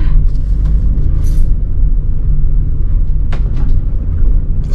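A van travels along a forest road, its engine and tyres making a continuous low rumble close by, with a few brief higher clatters and hisses over the steady drone.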